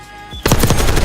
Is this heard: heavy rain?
no